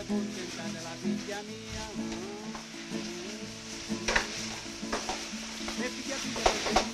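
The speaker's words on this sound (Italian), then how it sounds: "Facciamo rosolare in padella per circa 10 minuti." Rabbit pieces browning in a frying pan, sizzling steadily while being stirred, with scraping spoon strokes and occasional clinks rising over a continuous close crackle for the whole stretch.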